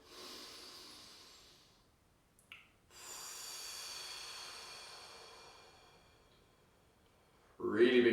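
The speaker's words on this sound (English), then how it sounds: "Really big deep breath." One person takes slow, deep breaths: a long airy inhale and exhale, a pause, another long breath, then a louder rough exhale at the end, close and alone without speech.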